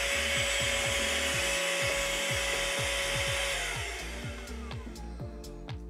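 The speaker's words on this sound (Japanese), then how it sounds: "こう排気なのでブロワーとしてこれ使う場合ですね。" A cordless handheld vacuum cleaner runs as a blower, its exhaust giving a steady high airflow whoosh close by, with intermittent rhythmic clicking and handling knocks as the motor sound gradually fades.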